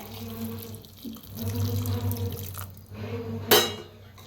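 Hot water splashes and gurgles into a cooking pot in uneven bursts, with a brief sharp clink near the end; a faint voice murmurs underneath.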